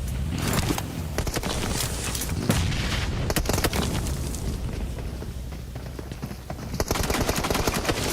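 Dense bursts of gunshots and automatic fire crack loudly and repeatedly in a PUBG Mobile esports match, shots stacking over one another with a few heavier booms throughout.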